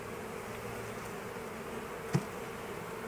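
A honey bee swarm being moved into its new hive at an apiary gives a steady, dense buzzing hum throughout, close and even, with one brief soft knock partway through and no talking.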